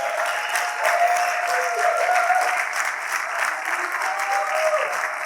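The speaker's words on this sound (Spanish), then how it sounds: "Damos un aplauso a él." A congregation in a church service claps steadily in sustained applause, filling the room evenly for several seconds without a pause.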